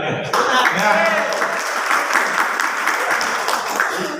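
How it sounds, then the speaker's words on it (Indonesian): An audience claps in applause at a school work meeting in Jakarta, a dense, sustained burst of hands filling the room for several seconds. "Tepuk tangan ya."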